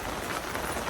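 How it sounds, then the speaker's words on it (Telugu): Heavy rain pours down in a dense, steady hiss, drumming on a surface for a brief moment with no voices. "ఫుల్గా పడుతుంది వర్షం"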